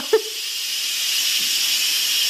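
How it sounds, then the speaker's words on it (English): Steam hisses steadily and forcefully from a pressurized cooker being vented, a continuous close, loud rush following a brief click at the start. "That's a lot of steam."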